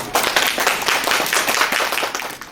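Audience applause welcoming a tenor singer to perform at a prenatal mothers' class, steady dense clapping from a room of people lasting a few seconds, fairly loud and close, tapering off at the end.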